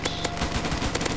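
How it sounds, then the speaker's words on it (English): Rapid gunfire in the Roblox game Zombie Attack while zombies are shot, a dense, loud stream of quick shots filling the whole short moment. "Shoot the scary zombies."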